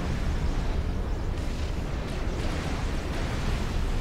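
Artillery fire in Supreme Commander: Forged Alliance rumbles as a continuous, dense barrage of low booming explosions, loud and sustained across the whole stretch with a few sharper bursts.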